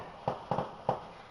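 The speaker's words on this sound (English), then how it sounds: "Sorry if you can hear the fireworks in the background," Fireworks bang faintly in the distance, three muffled thuds spaced over a second above a steady background hiss.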